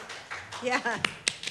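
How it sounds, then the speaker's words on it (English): A brief golf clap at an online quarantine concert: a few soft, scattered claps, faint and close, heard alongside a speaking voice. "golf clap"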